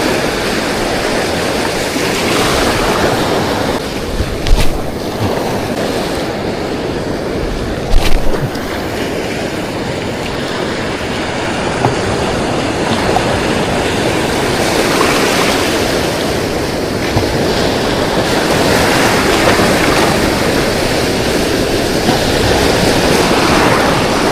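Ocean waves roll and crash continuously in a loud, broad roar, with a few sharper splashes breaking through; no voices.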